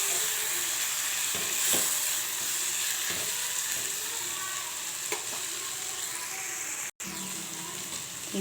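A pot of cooking dal for pappu charu, stirred after turmeric and chili powder go in, gives a steady soft sizzle with faint scraping strokes of the spoon throughout and no voice.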